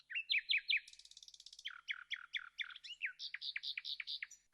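A nightingale sings alone with clear, close phrases: quick repeated whistled notes, a buzzy trill, then rapid rising chirps in steady rhythmic bursts.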